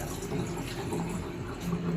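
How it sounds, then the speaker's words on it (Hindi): Water pours steadily into a pot of washed rice being prepared for layered biryani, a continuous gushing splash that lasts only a short moment. "ये हम इसमें पानी डालने लगे हैं"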